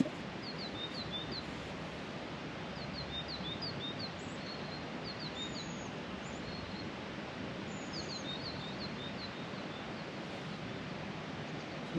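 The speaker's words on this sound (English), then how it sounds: "Lovely bird." Small songbirds chirp and trill repeatedly over steady rushing rain or surf-like noise outdoors, the calls moderately distant and scattered across the whole stretch.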